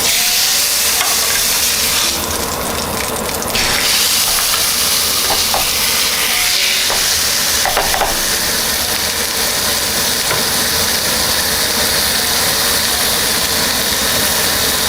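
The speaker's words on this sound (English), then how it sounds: "transfer it over here to the stove top and get a fry on it" Seasoned pork belly frying in a pan on a stovetop, a steady close sizzle and crackle running the whole time with occasional louder spits and utensil clinks, no voices.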